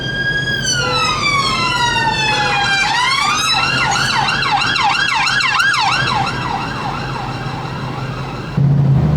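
A police car siren wails from behind a Lexus SC 430, rising and falling in long sweeps that shift into fast yelping warbles, fairly loud over the low hum of the car's cabin and engine.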